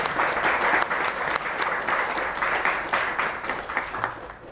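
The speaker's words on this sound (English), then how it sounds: "I think that deserves a round of applause" Audience applause at a spiritual talk, dense and steady clapping from a sizable crowd that holds for several seconds before tapering off.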